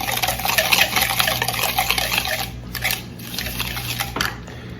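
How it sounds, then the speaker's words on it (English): Water is misted over sugar and then stirred for sugar skulls in a kitchen, giving a steady grainy scraping and rustle with a few sharper clicks toward the end. "I'm going to mist just a little bit of water over the top, and then give that a quick stir"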